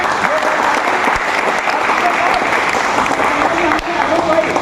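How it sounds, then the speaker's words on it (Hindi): Dense, loud audience applause greeting a guest at a thanksgiving party for RMR workers, a continuous wash of many hands clapping close by, with some voices mixed in. "हम लोग तालियों के साथ उनका स्वागत करें"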